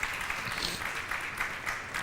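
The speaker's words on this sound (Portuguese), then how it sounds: "Uma salva de palmas para toda a nossa equipe" Church audience clapping for the team after a cantata, a brief, soft patter of many hands applauding evenly.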